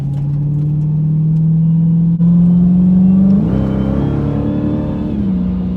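A Dodge Hellcat's supercharged engine drones loudly and steadily, then climbs in pitch as it revs up, with a supercharger whine riding over the rumble.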